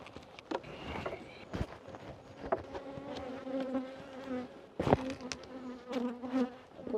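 Honey bees buzzing close around their hive, several overlapping wing drones rising and fading as individual bees pass near the microphone, with a few bumps and taps in between, no talking.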